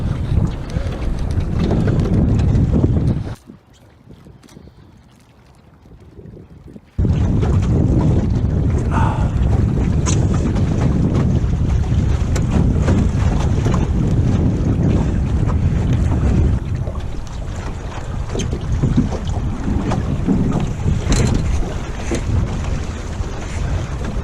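Sailing rowboat under way in wind, with heavy gusting wind noise and water rushing along the hull. A brief lull near the start drops the sound away, then it returns loud and steady.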